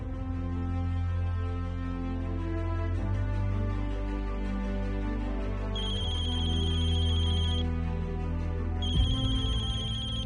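A phone ringtone plays repeatedly in a steady electronic pattern, the tone shifting between segments, with high beeping notes joining later; no talking.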